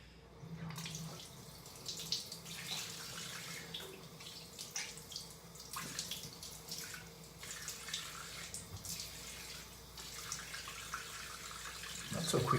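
Steady running tap water with splashing as a cartridge razor blade is rinsed under a faucet, continuous and close throughout.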